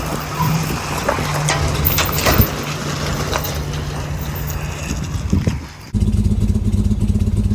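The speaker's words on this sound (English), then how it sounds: "Obviously this one's not running on all 6 cylinders. Trying to see which cylinders we're misfiring on." A BMW E46 inline six-cylinder engine idles roughly while misfiring and not firing on all six cylinders, a constant uneven rumble close by that shifts abruptly in tone near the end.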